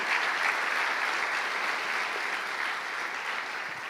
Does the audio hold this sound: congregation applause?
yes